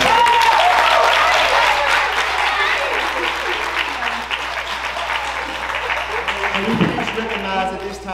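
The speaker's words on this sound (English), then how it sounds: "One more time, would you give them a round of applause?" Audience applause filling the hall at a spring school concert honoring children on stage, a dense steady roar of clapping with cheers and voices mixed in, holding loud for several seconds before easing slightly.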